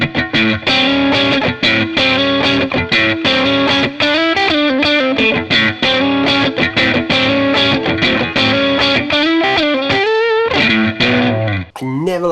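Electric guitar driven through a Tate FX Antares overdrive pedal, a Tubescreamer-style tone, playing a continuous stream of gritty notes and chords loudly and up close, with a few brief breaks near the end.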